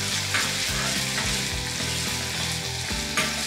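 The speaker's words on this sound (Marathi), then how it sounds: "याच तेलामध्ये आता घालूयात बारीक चिरलेला कांदा. आणि कांदा मस्तपैकी सोनेरी रंगावर परतून घेऊयात." Finely chopped onion sautés in hot oil, giving a steady, close sizzle with a faint rhythmic pulsing that runs without pause for a few seconds.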